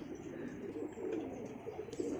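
Karna pigeons cooing close by, soft low murmuring coos repeating over a faint background with occasional light chirps.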